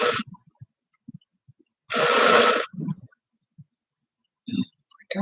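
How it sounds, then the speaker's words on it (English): A zipper pulled in one quick rasping stroke, a short, loud burst heard up close, set between scattered soft clicks and small handling noises in a quiet room. "That was a zipper this time."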